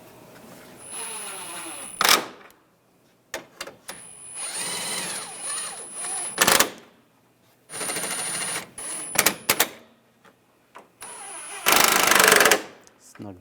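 Bursts of a power tool driving fasteners on a 2011-2018 Ram 1500 front bumper cover, loud whirring runs of a few seconds each, with short pauses and clicks between them.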